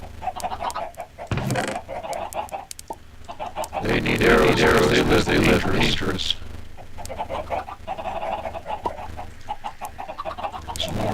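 Chickens in a video game cluck and squawk in short bursts, with a louder flurry of clucking in the middle, mixed in with a person talking over them.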